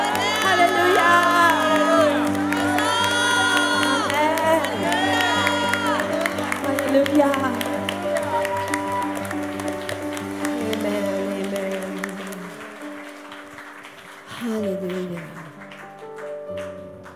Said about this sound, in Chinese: 我哋再一次拍手掌，俾我哋嘅主呢个欢呼嘅声音